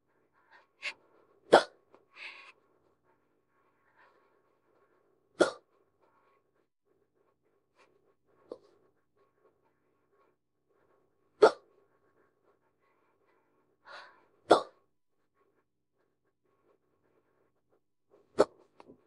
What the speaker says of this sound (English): usually get the hiccups